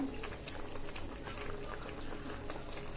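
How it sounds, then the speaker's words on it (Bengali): Small fish and eggplant cook in a pan, a steady dense sizzle and bubbling hiss at moderate distance, continuous and even throughout. "আমি ছোট মাছগুলো দিয়ে দিছি আবার একটু নাড়িয়ে দিবো"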